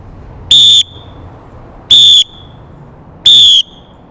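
An Acme whistle, blown with the tongue used as a valve, gives three loud, sharp, evenly spaced blasts, each about a third of a second long, with no talking.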